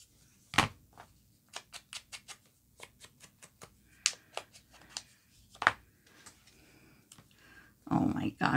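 Scissors snip a small paper flower free, a quick run of crisp, close clicking cuts with short pauses, followed by some rustling handling.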